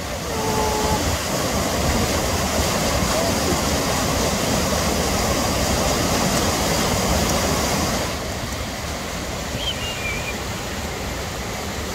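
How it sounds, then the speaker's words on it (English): Dolgoch Falls, a waterfall in Wales, roars loudly and steadily, with a continuous broad rush of falling water that drops somewhat in level partway through, with no talk. "while we visit the waterfall."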